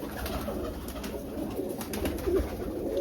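Domestic flying pigeons, a cock and hen kept for breeding, give low soft coos near the listener under constant background noise, with no voices.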